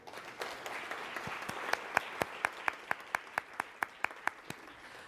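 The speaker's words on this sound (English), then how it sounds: "let's give them a round of applause before we get everything going" Quiet applause from a small audience at a panel event, heard as sharp, evenly spaced claps that sound like a single pair of hands keeping a steady beat over faint room noise.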